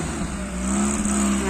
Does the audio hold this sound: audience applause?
no